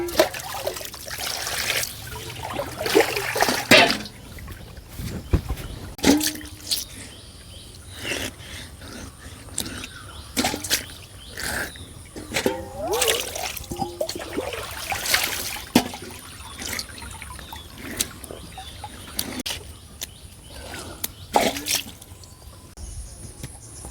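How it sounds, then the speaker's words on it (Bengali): A freshly cut snakehead fish is rubbed and washed by hand in a pot of pond water, producing repeated splashes, sloshes and trickles in uneven bursts close by, with no talk. "মাছ আমি পুকুর থেকে ভালো করে ঘষে ঘষে ধুয়ে নিচ্ছি"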